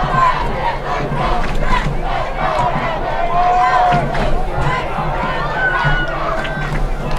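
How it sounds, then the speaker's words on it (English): A high school football crowd at an evening game against Hortonville roars and shouts continuously, a dense wash of voices from the stands with a whistle-like tone cutting through, while an announcer talks over it. "This enthusiastic crowd very eager to have a touchdown to cheer and celebrate"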